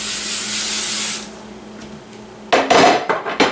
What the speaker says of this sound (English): I'm going to spray my casserole dish lightly with some coconut oil